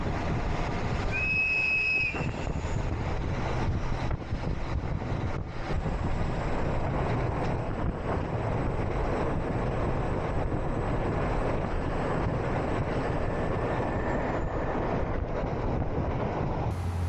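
A JR Hanasaki Line local train on the Nemuro Main Line in eastern Hokkaido, Japan, rumbles steadily along the rails with a constant onboard roar, a brief high wheel squeal near the start and faint clatter.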